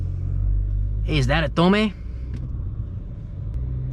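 A 2020 Audi S4 running with a steady low engine rumble throughout, idling and pulling away as someone briefly speaks over it near the start.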